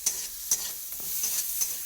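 Tomato and green chili hitting hot oil with ginger in a pan, a steady close sizzle broken by several sharp stirring scrapes and clanks, no voices.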